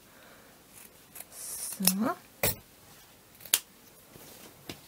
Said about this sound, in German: Dann nehmen wir wieder unseren Filz, schneiden uns rechteckig ein Teil ab.